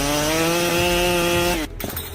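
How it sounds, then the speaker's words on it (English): A big professional gasoline chainsaw, a Stihl MS880 or Husqvarna 3120 XP, cuts through a tree with a loud, steady high-revving whine that drops in pitch and cuts off near the end, followed by a brief crack. "The Stihl MS880 and Husky 3120 XP are both outstanding professional gasoline saws"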